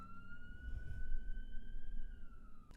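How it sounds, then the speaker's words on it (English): An ambulance siren wails steadily in the distance, a sustained rising tone that drifts slightly in pitch over a low rumble of background noise, heard alone without talk. "Ironic ambulance in the background."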